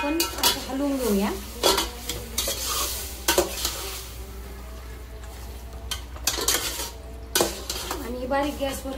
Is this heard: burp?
no